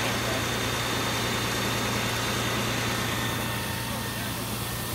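A fire engine pump runs steadily during a relay pumping drill with large-diameter supply hose, a constant loud engine drone and hum with no letup throughout.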